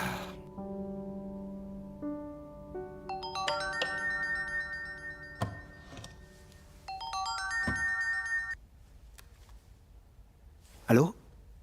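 A telephone ringtone plays a stepped electronic melody in repeated phrases for several seconds, then stops, followed by a brief voice answering the call.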